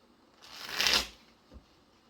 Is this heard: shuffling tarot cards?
yes